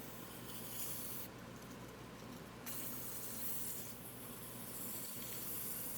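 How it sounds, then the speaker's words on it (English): Continuous scratchy rubbing of 220-grit sandpaper worked steadily over a turned wood burl, quiet and close, with slight shifts in texture but no pauses or voices. "I'm sanding back just to remove a little bit of the color"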